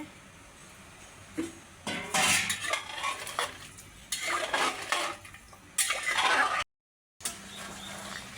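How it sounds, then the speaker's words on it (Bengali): Clattering pot-and-spoon clanks and stirring scrapes come in several loud bursts as potatoes go into a meat curry in a home kitchen cooking pot, with a brief gap of silence near the end. "আমি হচ্ছে মাংসের মধ্যে এখন আলুগুলো দিয়ে দিচ্ছি"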